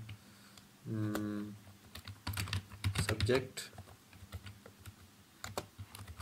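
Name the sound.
typing on a computer keyboard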